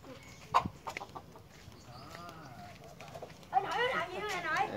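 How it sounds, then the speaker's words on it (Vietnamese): Red junglefowl clucking in the U Minh Thuong forest of Vietnam, soft clucks and calls near and far, mixed with people talking throughout. "Đây là gà rừng."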